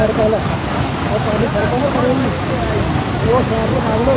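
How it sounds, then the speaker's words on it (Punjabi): Loud, dense roar of heavy rain pouring continuously during flooding in Punjab, with voices talking over it. "ਮੀਂਹ ਵੀ ਬਹੁਤ ਤੇਜ਼ ਆ ਗਿਆ ਜੀ"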